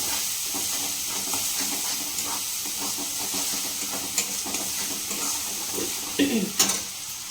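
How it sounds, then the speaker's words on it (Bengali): Spice masala being stir-fried in a pan for a tadka, a continuous close sizzle and hiss with repeated scraping strokes of a spoon, a few louder clatters toward the end. "কষতে হবে ভালো করে ভালো করে মশলাটা করতে হবে"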